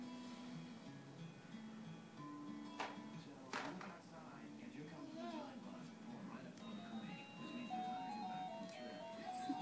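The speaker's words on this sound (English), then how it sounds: "Did you make your car talk?" A child's toy car plays electronic sounds and a talking voice after its button is pressed, a tonal melodic jingle running steadily at moderate volume close by, with a few sharp clicks and a parent's voice around it.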